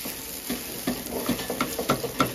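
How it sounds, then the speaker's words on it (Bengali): Ground urad dal filling being stirred in a pan with black cumin, rhythmic scraping strokes over a soft sizzle, close and fairly quiet. "একটু নেড়ে চেড়ে নিই।"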